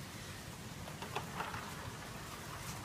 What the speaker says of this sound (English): it's raining outside, so I'm going to step out in the rain and get this done